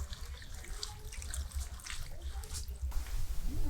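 Homegrown coriander leaves with muddy stems are rinsed in water, giving a soft, close swish and splash of water being stirred by hand.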